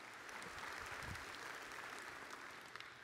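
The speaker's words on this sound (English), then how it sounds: "Come on, clap for the Word of God." A church congregation claps together in a sustained, dense burst of applause that holds steady for a few seconds, fairly close and even, with no voices rising above it.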